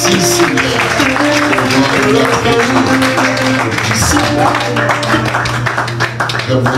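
A church congregation claps steadily in rhythm over loud worship music with sustained tones, the sharp clap hits blending into the band throughout.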